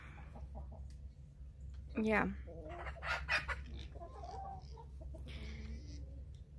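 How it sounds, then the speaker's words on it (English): Roosters and chickens on a small farm flock of about two dozen birds: a sharp rising squawk-cluck and a burst of clucking close by over a low steady hum, with a person talking quietly. "Just out here with the roosters."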